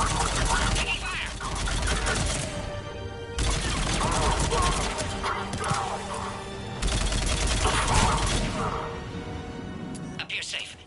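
Heavy gunfire erupts during an attack in the Mass Effect 3 Legendary Edition video game, with dense, rattling bursts coming in three long waves under urgent voices.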